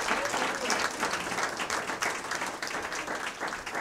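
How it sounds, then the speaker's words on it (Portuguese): A church congregation applauds during a worship service, steady broadband clapping filling the room for several seconds without a break. "Você pode dar uma salva de palmas?"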